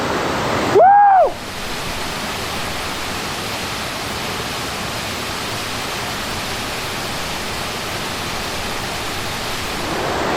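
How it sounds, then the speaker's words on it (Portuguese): A loud, constant rushing roar of the Quiriri waterfall in Santa Catarina, Brazil, fills the scene, broad and steady, with a brief whooshing disturbance near the start. "A cachoeira do Quiriri é nossa."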